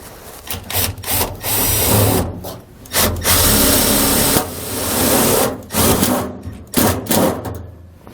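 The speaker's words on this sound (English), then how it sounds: "we're just going to take some self-tapping screws and attach the circuit breaker" A power driver spins self-tapping screws in to mount a circuit breaker on a 2020 Jayco Pinnacle trailer, several loud whirring bursts of a second or more separated by short pauses, close up.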